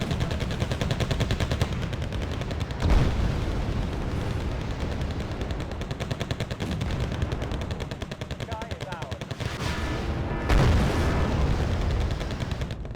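Artillery and gunfire in the 1980s-set Wargame: Red Dragon campaign 'Pearl of the Orient', dense continuous battle noise with repeated booms and rattling shots, loud and sustained throughout.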